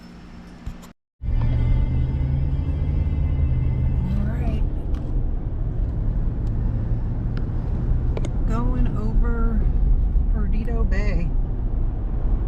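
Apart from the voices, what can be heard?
strong wind gusts over a bay during storm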